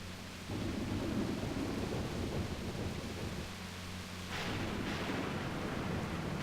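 A thunderstorm in the video game Grandia II rumbles on without a break, with deep, heavy thunder over a wash of rain and a brighter crack near the end, and no voices.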